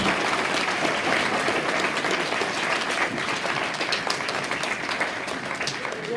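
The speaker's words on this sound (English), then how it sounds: "give all of our staff a round of applause" An audience claps steadily for school staff after a production of A Midsummer Night's Dream, a dense, even wash of many hands lasting throughout with no voices on top.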